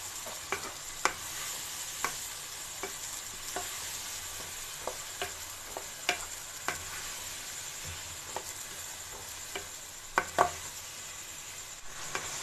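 Tinday frying in a pan with a yogurt mixture over medium-high flame, giving a steady hissing sizzle broken by regular clicks and scrapes of a spoon stirring against the pan.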